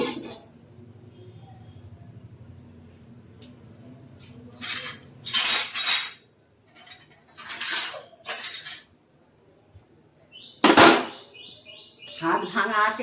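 Metal spoon scrapes and clinks against a pot and pressure cooker while potato curry (aloo dum) is scooped across in a home kitchen, coming in short separate bursts with quiet gaps and faint birdsong in the background.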